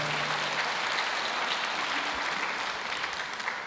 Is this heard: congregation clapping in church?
yes